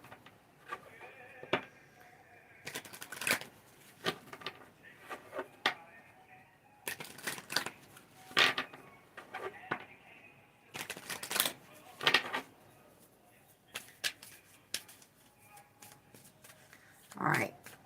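Tarot cards are shuffled by hand in repeated quick riffling bursts with pauses between them, close and crisp against a quiet room.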